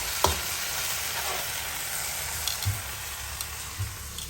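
A home-cooked sauté, or ginisa, cooks in a pan, with kangkong mentioned as part of the meal. A soft, steady sizzle hisses throughout, broken by a few light utensil taps, with no talking.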